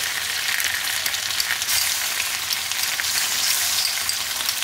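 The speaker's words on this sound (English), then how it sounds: "Sizzle it off, give it a good stir." Steady, close sizzling of ginger and garlic frying in a hot pan, a continuous crackling hiss with no talking.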